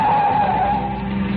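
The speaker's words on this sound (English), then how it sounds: "In my ears was the screeching of brakes, of tires taking a wild curve." A car takes a wild curve with its brakes screeching and tires skidding. A single loud, sustained squeal holds steady over a low engine rumble and fades slightly toward the end.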